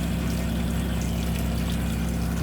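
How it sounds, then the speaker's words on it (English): A water pump runs beside a newly installed Girard tankless water heater, giving a steady, continuous hum with faint trickling water over it. "Hey, Bill, turn on the water heater and water pump."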